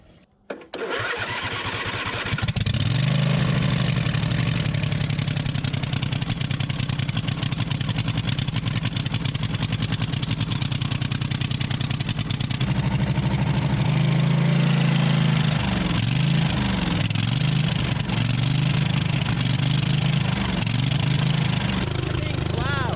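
A John Deere D140 lawn tractor engine on full choke cranks, catches and runs steadily and loudly close by, chugging with an uneven low throb throughout, while a voice speaks faintly underneath.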